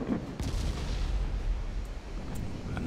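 Naval gunfire striking ships in the Ultimate Admiral Dreadnoughts video game, with a heavy rumbling boom and a continuous low roar of distant shell fire, a few faint sharper cracks, and no talk.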